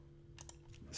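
Typing on a computer keyboard during work in a web analytics tool: a few quiet key clicks in the middle, then a slightly louder burst of keystrokes at the end, over steady low room hum.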